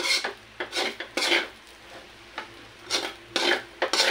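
A spatula scrapes and stirs food in a frying pan in repeated bursts, with a soft sizzle underneath and no talking.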